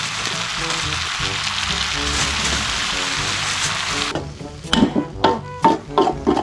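Steady crackling sizzle of food frying in a hot pan, loud and continuous, then broken by a few sharp clanks and scrapes near the end.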